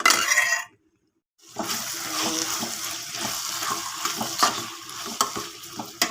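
Vegetable curry with onions, salt and a little asafoetida being stirred in a pan, producing a steady close sizzle with scraping stir strokes after a brief silent gap, no voices.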